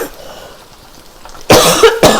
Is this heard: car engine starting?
no